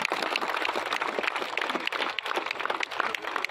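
Steady dense applause from an audience at a rural youth CM Cup sports event, continuous and fairly close, filling the whole stretch with no clear voices over it.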